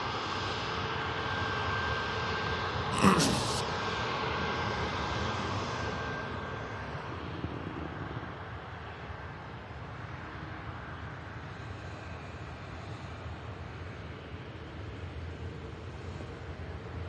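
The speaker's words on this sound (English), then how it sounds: "Let's see what this Boeing 777 sounds like." Boeing 777 engines at Manchester Airport, a broad steady roar of jet noise filling the scene, with a short sharp burst near the start before the rumble eases and settles into a softer, continuous drone.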